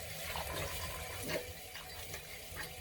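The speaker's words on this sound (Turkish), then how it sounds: "Evet şimdi gelelim sırada otlarımızı yıkamak var" Tap water runs steadily into a sink while herbs are rinsed in a kitchen, a continuous close splashing hiss with small shifts in the flow.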